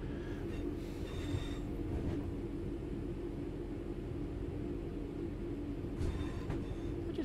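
Steady low rumble of a train running through a yard in Train Sim World 3 on the Glossop line, a continuous heavy rolling drone with faint wheel squeal and brief clicks near the start and end, no talking.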